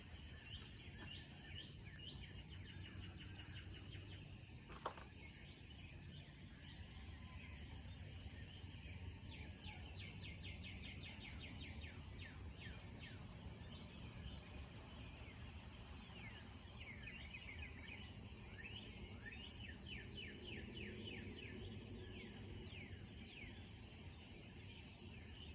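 Birds chirping and trilling at sunrise, repeated bright calls scattered across a steady outdoor bed of insect-like hiss and low rumble, moderately distant.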